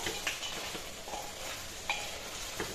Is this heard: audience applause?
no